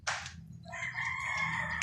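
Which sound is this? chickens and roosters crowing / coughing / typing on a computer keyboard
chickens and roosters crowing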